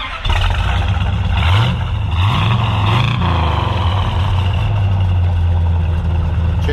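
A 1968 Plymouth Road Runner, parked in a field for 25 years and fitted with a new pump, cranks and catches. The V8 rises through a few revving swells, then settles into a loud, steady, rumbling idle up close.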